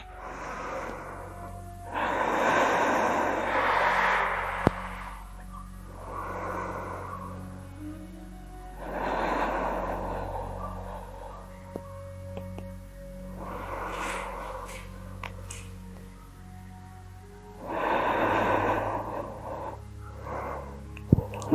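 Slow, deep breaths drawn in and let out during a held morning yoga pose, about five long breath cycles in a row, close and fairly soft, with faint room hum beneath and no talking.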